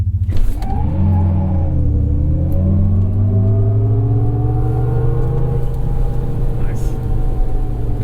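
A GMC Hummer EV SUV, an electric vehicle, launches at full acceleration on a wet surface with a loud, rising roar, with a steady drone continuing throughout.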